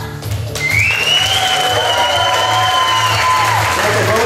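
An audience at a beauty pageant-style contest cheers for a female contestant with loud, sustained clapping, shouts and whistles that rise after a brief start and carry on steadily throughout.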